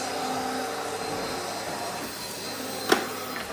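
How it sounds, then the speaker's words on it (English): A vacuum cleaner with a turbo brush roars steadily at close range with a harsh, whirring brush noise and one sharp click near the end. "these turbo brushes are quite noisy. I'll try not to shout, but I'll just give it a bit of a vacuum"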